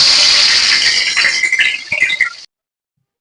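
Bay leaves and a dried red chili sizzle in hot oil in a wok while cooking a Bengali koi fish curry with potato and cauliflower, giving a loud, steady crackling hiss that thins to scattered pops and then cuts off.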